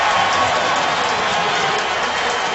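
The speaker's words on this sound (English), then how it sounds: "Terrell Suggs playing to the crowd a little bit, and they respond" Roar of a football stadium crowd at a Raiders at Ravens game, a dense, steady wash of cheering and applause responding to a player, loud and unbroken for the whole moment.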